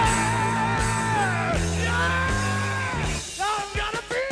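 Strained, held screams in a song, loud raw vocal cries over the band's sustained guitar and bass chords.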